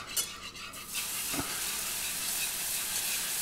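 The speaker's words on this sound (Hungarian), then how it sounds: "A rántásba a forró tejet beleöntöm" Hot milk poured into a butter roux and stirred in a pan, a brief splash followed by continuous bubbling sizzle and stirring, close and steady with no talking.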